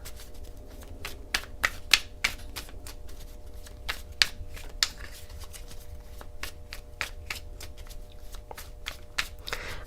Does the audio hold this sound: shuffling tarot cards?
yes